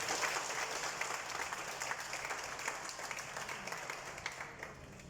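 Steady applause from an audience at the inauguration of a children's early-learning centre in Mauritius, many hands clapping at a moderate distance, continuous and slowly fading, with no speech over it.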